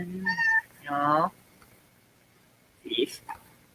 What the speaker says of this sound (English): For those wondering, the cat's name is Cleo, in case you could hear her in the background.